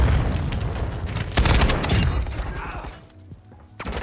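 Rocket launcher blasts in a chaotic shooter match, heavy booming explosions and crackling bursts stacked loudly over game noise, with a big impact near the middle before the din thins out.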